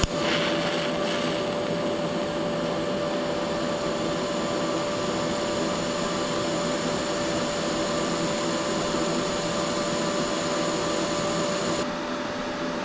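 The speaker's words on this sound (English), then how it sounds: "Great looking little lift TIG weld." Steady lift TIG arc on a butt joint from a YesWelder MIG-250PRO, run a little under 120 amps: an even, continuous hiss with a fine electric buzz, close and unbroken for the whole stretch, no voices.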